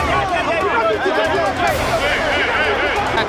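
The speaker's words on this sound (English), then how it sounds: "Listen to the boos." A boxing arena crowd boos Klitschko's fight with Lewis, a loud, sustained wall of wavering jeers and hubbub that fills the hall from start to finish.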